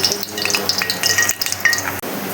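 Ghee added to hot mustard oil in a wok sizzles and crackles steadily, with irregular bright pops and spatters close up and no voices.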